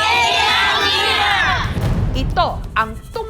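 A crowd of protesters on Homonhon Island shouts a loud collective cry over a mining dispute, the roar swelling then breaking into scattered individual yells and whoops.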